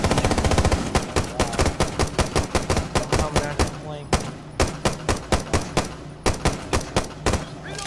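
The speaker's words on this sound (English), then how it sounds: "I'm just giving me suppressive fire at this point" Rapid automatic gunfire in Rainbow Six Siege, laid down as suppressive fire, a loud sustained burst that breaks into shorter irregular volleys of sharp, close shots.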